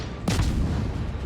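Naval guns firing aboard the Khabarovsk destroyer in World of Warships, a sharp broadband blast followed by a rumbling boom that lingers under steady background battle noise.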